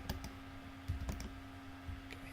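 Computer keyboard keys pressed for a copy shortcut, a few crisp clicks scattered across a short stretch with a steady low hum underneath, no talking.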